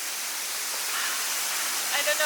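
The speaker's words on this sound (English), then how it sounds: "Now we are in Gambling Waterfall." A waterfall in the jungle near Sidemen, Bali, a steady, broad rushing hiss that holds constant and fairly loud throughout the short stretch.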